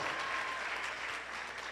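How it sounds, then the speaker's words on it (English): A crowd applauds the poet La Bruja at a Latina empowerment event, brief dense clapping that is fairly quiet and steady throughout. "let's give La Bruja another round of applause, please"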